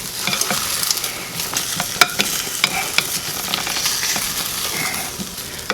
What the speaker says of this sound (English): We're gonna give this a good stir.